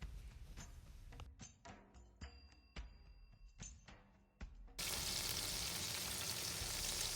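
Onion-tomato masala for an eggplant curry frying in a pan with salt, chili and turmeric: a crackling, popping sizzle with scattered clicks from stirring, then a sudden swell into a loud, steady hiss.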